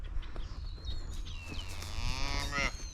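Cow mooing on a farm, a loud close drawn-out low call that rises into a strained, wavering bellow, with no one speaking over it.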